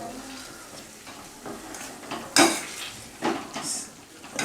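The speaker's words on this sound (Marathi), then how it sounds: "नॅशरनं असं छानपैकी ह्याला नॅश करून घेऊ." Cooked pumpkin being mashed in a pot with a masher over a low gas flame for kheer, giving soft squelching presses and a few sharp metal clinks against the pot, fairly close.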